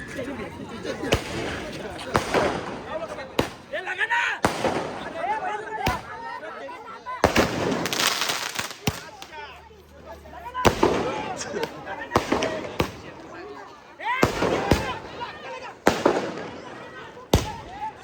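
Loud firecrackers burst in irregular volleys at a bullock cart race victory celebration, sharp cracks and pops crowding together, with people talking and shouting between and under the blasts.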